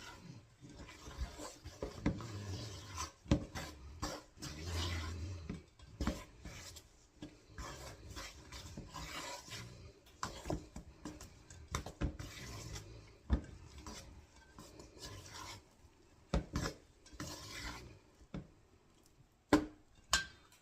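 Sticky dumpling dough for chicken and dumplings stirred in a bowl produces irregular close scraping, rubbing and thudding strokes, sometimes clustered and sometimes sparse, with brief pauses and no talk.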